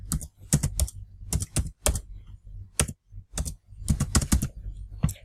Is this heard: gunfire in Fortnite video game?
no